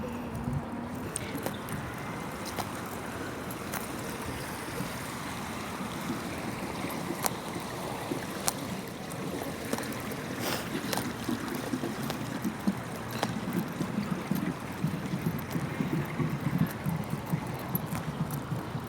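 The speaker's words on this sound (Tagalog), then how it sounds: "It's a beautiful bangka." A wooden bangka outrigger boat moves along on water, giving a steady wash of splashing and trickling over a constant low rumble, with soft voices now and then.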